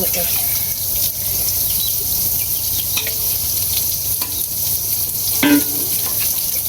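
Eggplant fritters frying in hot oil, a steady close sizzle running throughout with a few brief louder crackles.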